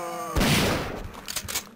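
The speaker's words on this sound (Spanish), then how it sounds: "¡Qué bueno ese disparo!" A single gunshot in the video game Resident Evil 3 Nemesis, a sharp booming blast that decays into a brief rumbling tail, following a short tonal sound.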